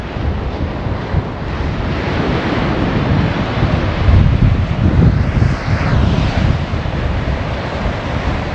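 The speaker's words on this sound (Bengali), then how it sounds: "এই যে সামনে আপনারা সমুদ্রের গর্জন শুনতে পাচ্ছেন কিনা" Ocean surf roars onto the beach at Robert Moses State Park on Long Island, a loud, rumbling wash of breaking waves with gusting wind buffeting close by and no voices.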